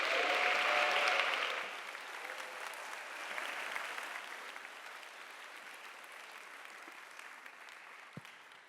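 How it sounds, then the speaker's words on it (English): An audience at a talk applauds as a woman comes to the stage, a warm wash of clapping that starts loud, then eases to a thinner, sustained patter over several seconds. "please give her a round of applause"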